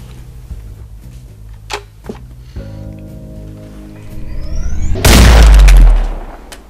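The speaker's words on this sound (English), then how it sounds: "It's a state-of-the-art pulse cannon." A sci-fi pulse cannon fires in an Uno-themed game: scattered clicks and tonal hums build into a rising whine, then a sudden loud booming blast that roars for about a second before fading.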